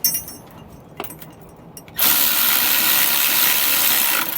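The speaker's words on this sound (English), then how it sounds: "We're going to use a 9/16 socket for these pieces of hardware here on these U-bolts." A 9/16 socket tightening U-bolt hardware on a Roadmaster steering stabilizer, a few sharp ratchet clicks followed by a loud steady whirring of a power tool driving the nut.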